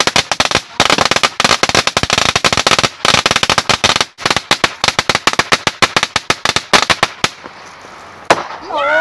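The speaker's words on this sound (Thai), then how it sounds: "เดี๋ยวเราจะจุดประทัดเพื่อฉลองชัยกันนะครับ" A long string of firecrackers set off in celebration on a mountain summit in Thailand, crackling in rapid, loud bursts for most of the stretch, then breaking into a few scattered pops that thin out near the end.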